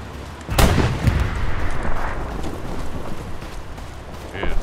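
A single heavy artillery boom in the WWII shooter Hell Let Loose, close and loud, followed by fainter rumbles and distant shots while voices talk.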